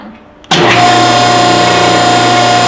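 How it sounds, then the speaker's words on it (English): A hydraulic paper cutter starts abruptly and runs with a steady, loud mechanical hum and whine that holds constant to the end, with no talking. "After you've pushed start and then you hear the engine running"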